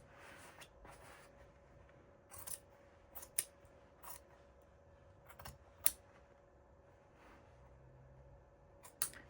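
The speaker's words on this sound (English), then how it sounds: "now I'm just going to take my scissors, and I am going to just trim a little of this excess off" Scissors snip at excess fabric and clip its corners in a quiet room, giving sparse, sharp, close cuts separated by pauses, with faint rustling between them.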